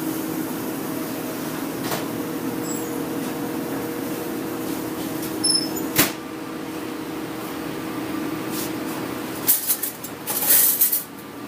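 In a restaurant kitchen, a metal pan is handled and slid into an oven, producing a few short clanks and knocks over a steady mechanical hum.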